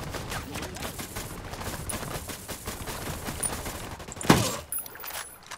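Gunfire in the video game Ghost Recon Wildlands, a busy spread of shots and bursts running throughout with one louder sharp blast near the end, heard under a steady game soundscape.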